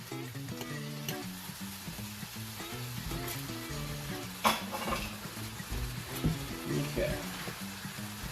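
Meat fries in a pan for a churrasco sandwich, a continuous soft sizzle with occasional clinks of a utensil against the pan, while a voice talks over it.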